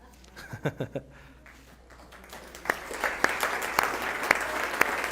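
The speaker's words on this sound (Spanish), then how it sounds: "Ya no los tuve que regañar para que aplaudieran." A classroom audience at a masterclass on instructional techniques claps, starting with a few scattered claps and swelling into steady, moderate applause.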